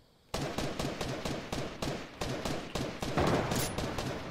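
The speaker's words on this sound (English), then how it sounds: "I'm literally shooting at the guy." Rapid gunfire from a video game sniper match: a steady string of sharp shots in quick succession, loud and close, continuing without pause and with no voices over it.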